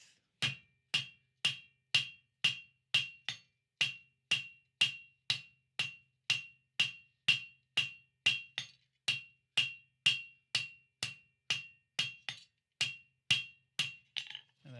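A cross peen hammer spreading hot steel into a leaf blank on an anvil, about twenty-five sharp ringing blows in a steady, even rhythm, close and clear with silence between strikes.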